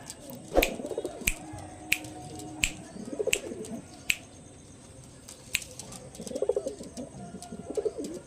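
Pigeons coo in soft, low bursts nearby, with several sharp clicks or taps scattered between the calls.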